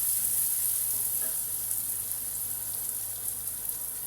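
Onions browning in a pan for rice curry give a steady, close, hissing sizzle that runs evenly throughout, with no talk.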